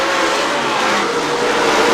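Sprint race cars roar around a dirt oval at Fremont Speedway, a dense, continuous high-pitched engine howl held loud and close throughout with no pause.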